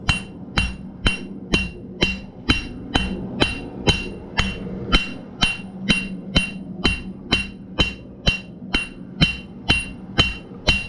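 Hammer blows on hot steel while forging tapered tongs, a steady rhythmic series of about twenty sharp ringing strikes, evenly spaced and close, with no talking.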